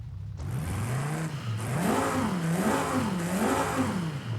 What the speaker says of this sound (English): let's take a listen to this stock exhaust note real quick